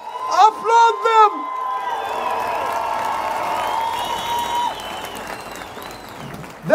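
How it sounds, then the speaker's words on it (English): At a huge ceasefire protest in London, a crowd claps and cheers steadily in the open air, with a few voices rising over it near the start and an amplified announcer's tones ringing above the noise. "Applaud them."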